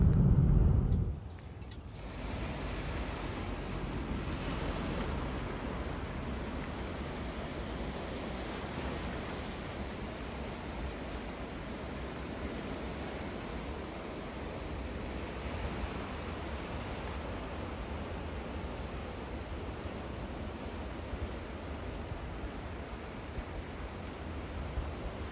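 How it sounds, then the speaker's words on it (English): Ocean surf washing steadily near a large seaside house in Old Orchard Beach, Maine, a continuous broad roar with some wind after a brief louder bump at the start, no talking. "right on the other side is the ocean."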